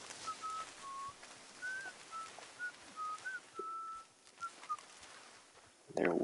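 Frontiersmen in the Red Dead Redemption 2 game world whistle a wandering tune of short, clear notes outdoors in New Austin, fairly faint over a soft ambient background, ending with a louder brief sound.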